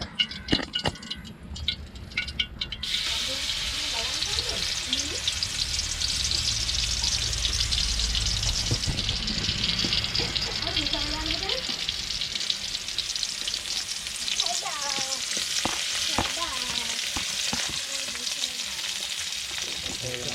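Onion and curry leaves fry in coconut oil over an outdoor cooking fire near a beach, making a loud, continuous sizzle with stirring and bubbling throughout.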